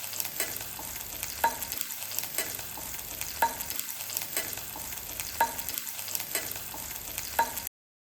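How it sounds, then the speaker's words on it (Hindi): Ginger, garlic and green chilli sauté in a little oil, a steady close sizzle with regular stirring scrapes and spoon taps recurring about every two seconds, no voices. "इसको थोड़ा सौते कर लेंगे।"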